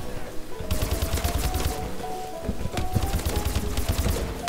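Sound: grenade being shot in a video game

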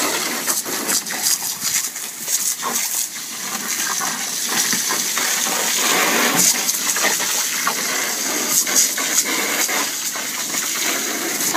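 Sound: dog playing and splashing in pool water

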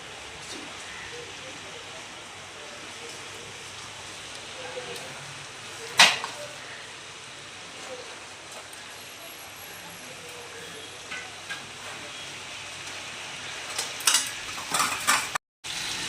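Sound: salt-turmeric coated hilsa fish frying in pan

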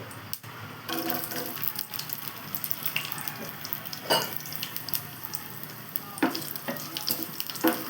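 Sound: mustard seeds frying in hot oil for dry fish curry

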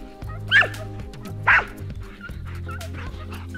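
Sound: hunting dogs barking during chase

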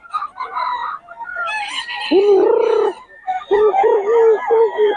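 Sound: young gamecock (stag) crowing and chickens clucking on a farm

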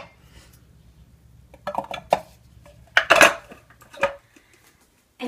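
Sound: nuts being added to a bowl

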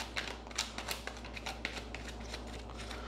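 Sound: shuffling a deck of tarot cards

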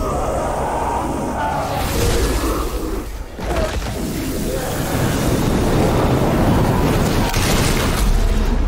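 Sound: explosion in the video game Evil West

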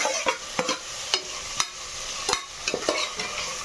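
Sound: stirring and frying tomato and vegetables in pan

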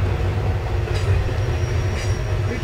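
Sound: retired former Santa Fe locomotive train

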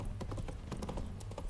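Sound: horse Roach galloping in The Witcher 3 video game

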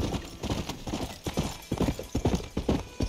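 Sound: horse walking in Red Dead Redemption video game

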